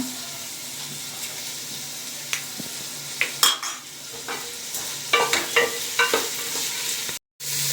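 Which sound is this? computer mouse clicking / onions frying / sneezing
onions frying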